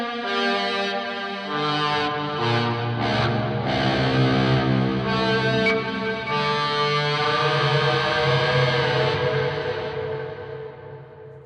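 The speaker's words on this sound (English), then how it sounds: "it just has a ridiculous amount of delay and reverb, so you can swell a note and just let it ring" An electric guitar note swelled in with a volume pedal and drenched in heavy delay and reverb, building to a loud, sustained, harmonically rich drone that rings on and slowly decays, with no talking.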